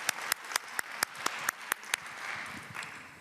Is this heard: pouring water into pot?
no